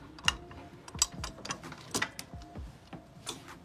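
Torque wrench ratcheting as it tightens the torque corrector on a Yamaha TMAX scooter to 90 Nm with a long 27 mm socket, a rapid series of close, sharp metallic clicks in an uneven rhythm.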